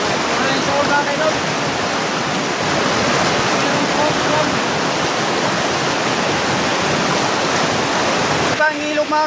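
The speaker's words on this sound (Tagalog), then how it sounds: "Ito ang ilog mga kaidol." A flowing river rushes in a dense, loud, constant wash of water noise that fills the whole stretch, with no pauses and a slight change near the end.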